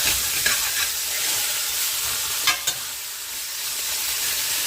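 Extra-lean ground sirloin frying in a pan for chili con carne, a close, steady sizzle with scraping strokes of a spoon breaking it apart and a couple of sharper clacks, no talking.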